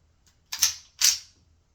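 The slide of a 10mm pistol racked by hand, giving two sharp metallic clacks about half a second apart, close and clear with no talking.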